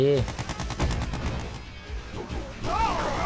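Rapid gunfire from infantry battles in the strategy game Red Alert 2 rattles in quick bursts alongside other game effects, while someone talks over it.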